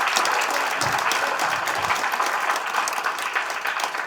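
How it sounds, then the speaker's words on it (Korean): Sustained applause from a forum audience in a hall on the second floor of the Korea Christian Building, welcoming Dr. Michael Shin; dense, steady clapping fills the full four seconds at an even level. "뜨거운 박수 부탁드립니다."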